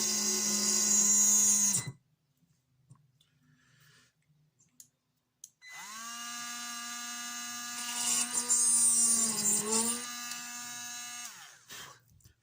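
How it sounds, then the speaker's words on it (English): A cheap Aldi power drill whines as it opens up an undersized wheel bush hole, running loud and steady for a couple of seconds, falling silent with a few faint clicks, then starting again and labouring under load before cutting out. "This is a cheap power drill I got from Aldi"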